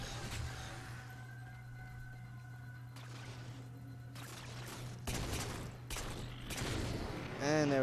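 Pistol gunfire in the Halo 4 campaign on Legendary difficulty, a series of sharp cracks and bursts that grow denser toward the end over steady game ambience.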